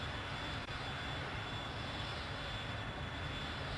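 A Dassault Dornier Alpha Jet engine in a flight simulator keeps up a steady, dense roar and whine at moderate volume with no pauses, heard alone without voices.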